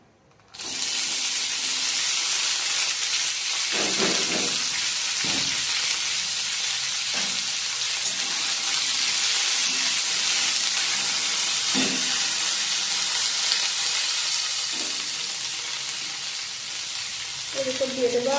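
Red amaranth stalks hit hot oil already seasoned with five-spice, dried chilli and a bay leaf, setting off a loud, steady sizzle that runs throughout, with a few stirring knocks and scrapes.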